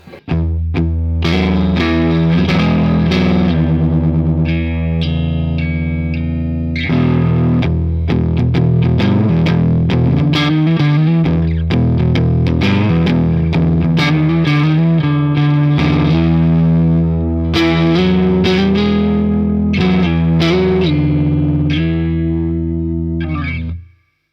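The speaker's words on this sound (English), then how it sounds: "That is one of the best sounds I've ever got from that Marshall amplifier." Hartwood Deytona II electric guitar on its neck pickup, played through a Marshall amplifier: a loud, continuous distorted tone with effects, strummed chords and sustained notes ringing steadily for the whole stretch, no voices.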